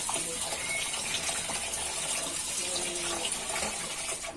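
Tap water runs steadily over tilapia being washed in a sink at home, a loud continuous splashing gush that holds unbroken for the whole stretch.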